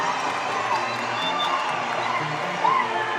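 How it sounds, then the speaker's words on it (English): A boxing show crowd at an armory cheering and shouting in a steady roar, with scattered clapping and whoops and a louder swell near the end, under a commentator's voice. "This crowd is going nuts."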